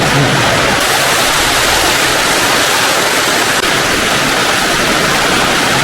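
Water released from the Khushdil Khan dam roars in a loud, continuous rush that holds steady throughout, close by, with no voices over it.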